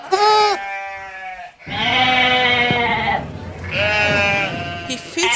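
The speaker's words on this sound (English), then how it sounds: "Can you hear the sound of the sheep?" Sheep on a farm bleat loudly and close by. Three long, wavering calls follow one another with short pauses between them, and no other sound competes.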